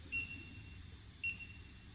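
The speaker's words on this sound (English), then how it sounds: "the motor working in reverse, so you can hear the beep beep beep sound" A C-Puma int+ electric micro motor running in reverse gives two short, high beeps about a second apart. They are quiet and sit over a low, steady motor hum.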